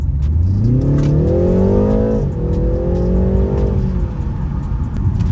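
A BMW accelerates hard in second gear from a 20 mph roll, its engine note climbing steadily, briefly dipping at a shift near the middle and then pulling again, loud and close from inside the car.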